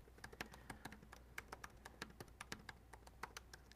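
Someone types on a computer keyboard, producing quiet, fairly close bursts of rapid key clicks in an uneven rhythm, with no talking.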